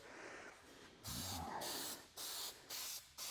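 Plasti Dip aerosol sprayed from a rattle can onto a car wheel: close, loud hissing bursts, one long spray followed by several shorter pulses with brief pauses between them.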